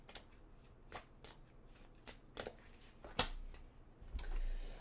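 A deck of oracle cards being shuffled by hand, a run of quick papery riffles and flicks in an irregular rhythm, close and fairly quiet, with no talking.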